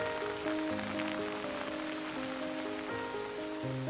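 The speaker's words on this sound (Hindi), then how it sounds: "फिर जब ये बादल ठंडे होते हैं तो वर्षा की शक्ल में पृथ्वी पर लौट आते हैं" Steady rain falling, a continuous soft hiss of drops on surfaces, faint and even throughout with no voices.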